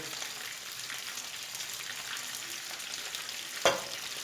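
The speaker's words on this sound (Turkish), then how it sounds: "Domatesle biberimizi biraz pişiriyoruz." Large slices of tomato and pepper fry in a salted pan with a steady, gentle sizzle, broken near the end by one sharp clink of a utensil.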